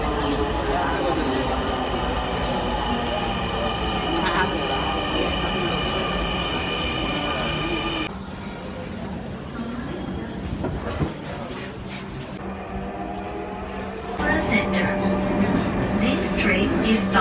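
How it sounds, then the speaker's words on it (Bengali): A metro train rolls into a station with a loud rumbling roar and a brief squeal of wheels that eases partway through, then swells again. Voices can be heard faintly in the background. "মেট্রো রেলের জন্য ওয়েট করতেছি।"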